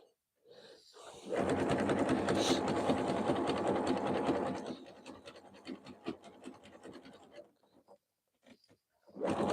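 A sewing machine stitching a jelly roll rug runs in a fast, loud mechanical burst, then continues more unevenly with rhythmic ticking before stopping and briefly restarting, heard close up with no talk.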